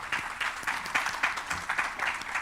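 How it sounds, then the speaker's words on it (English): An audience at the Absa Zambia Inspire Me Conference applauds the panelists with steady, moderately loud clapping that pulses in small waves through the whole stretch. "please, a round of applause for the brilliant panelists"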